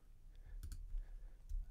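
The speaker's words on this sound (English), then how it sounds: "if I click export" A computer mouse clicks on the export button in Ableton Live 9, a couple of short, sharp clicks close up over a low room hum.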